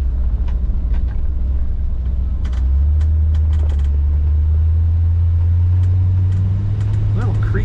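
A 1955 Ford Fairlane Victoria two-door hardtop cruises down the road with a steady low engine drone and road rumble, while someone talks over it throughout.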